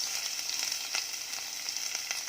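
Garlic and onion sautéing in a pot, a steady bright sizzle heard close up with faint stirring ticks, continuous and alone without talk.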